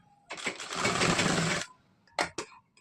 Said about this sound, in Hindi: देखिए इस तरह से फोल्ड करके हमें स्टिचिंग कर लेनी है।